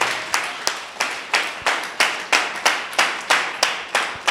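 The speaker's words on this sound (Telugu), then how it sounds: "మన పరమ తండ్రికి గట్టిగా చప్పట్లు కొట్టి దేవుని నామమున మహిమపరుద్దాం" A church congregation claps hands loudly in praise, a strong, even rhythm of about thirteen sharp claps at roughly three per second, close and clear with no talking over it.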